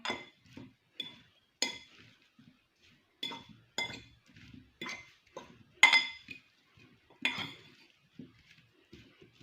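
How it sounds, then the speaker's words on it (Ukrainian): A fork mixing cucumber pieces with a little oil in a bowl gives sharp, irregular clinks and light scrapes close by, separated by brief quiet gaps, with no one speaking. "Це все ми перемішуємо. Я перемішую вилочкою."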